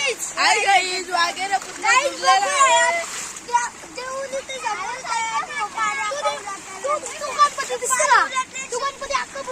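Floodwater runs over a farm field with a steady rushing, splashing wash beneath several voices, including a child's, talking throughout.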